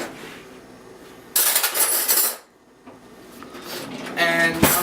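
A margarine tub being opened and a spoon grabbed from kitchenware, with a burst of clattering and rustling, a pause, then more rattling and a sharp knock near the end, with faint background noise throughout.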